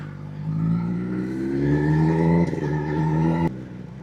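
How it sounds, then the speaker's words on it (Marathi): A Kawasaki ZX-10R sport motorcycle engine revs steadily, its pitch climbing then settling, loud and close with a brief mechanical clatter near the end. "बाईक नॉर्मली एवढा आवाज करते ना"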